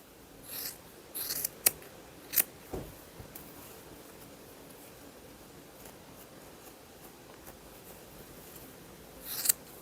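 Scissors give several quick, crisp snips through crochet yarn while a beanie is being trimmed. The cuts fall in a loose cluster early on, and a couple more follow at the end over quiet room tone.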